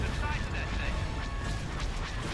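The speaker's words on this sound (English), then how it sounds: "Look at all those proton torpedoes are firing off." Proton torpedoes launching in the Star Wars strategy game Thrawn's Revenge, heard as a dense, continuous rumble of distant booms and thuds throughout, steady and moderately loud.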